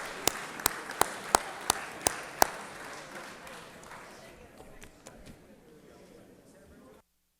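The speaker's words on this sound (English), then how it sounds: "Give him a round of applause" Applause in a state Senate chamber for former senator Fran Millar: a few sharp claps ring out in the first couple of seconds, then a soft spread of clapping and room murmur that fades away.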